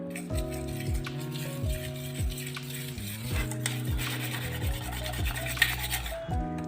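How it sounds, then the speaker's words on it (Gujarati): A whisk stirs besan batter thinned with buttermilk and water in one direction, giving a steady scraping, rubbing swish against the bowl, fairly close and even, under a sustained musical background. "તમે આ રીતનો વિસ્કર લેશો અને એક જ ડાયરેક્શનમાં એને ફેરવશો"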